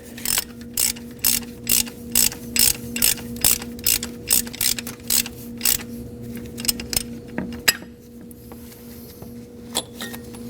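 A ratchet with a 24mm socket tightens the oil pressure switch on a 2011-2016 Kia Optima, giving a series of rapid close clicking bursts in a steady rhythm that slow, turn sparse and stop near the end, with no talking.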